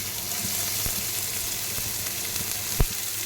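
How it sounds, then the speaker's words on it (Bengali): Finely chopped onions fry in hot oil toward browning, giving a steady close hiss and crackle with a few sharp pops throughout. "পেঁয়াজটাকে ভালো করে ভেজে নিই যতক্ষণ ব্রাউন কালার হবে"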